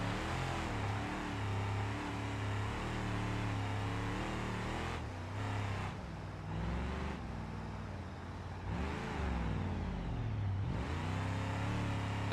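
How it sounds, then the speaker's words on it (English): Supercharged V8 car engine in BeamNG.drive droning steadily, with harmonic pitch dipping and recovering at several points as gears change roughly, loud and close throughout. "That was a really awful gear change."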